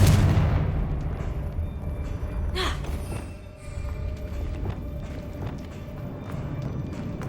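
A Confringo blasting spell goes off in Hogwarts Legacy: a heavy, booming burst that opens loud and decays into rumbling debris, followed by a sharper crackling flare mid-clip and scattered smaller impacts over a steady game-world din.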